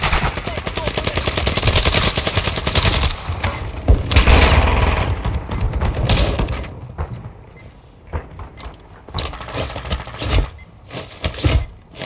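Bots fire shotguns in a video game, loud rapid blasts coming in dense volleys, then thinning into scattered separate shots toward the end, with no talk over them.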